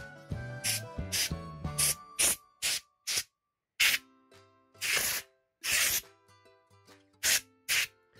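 Short hissing bursts of compressed air from a spray can cleaning dust from a laptop motherboard, several quick blasts separated by brief pauses, with a faint background music-like tone early on.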